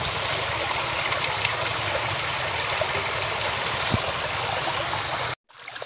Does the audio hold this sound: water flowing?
yes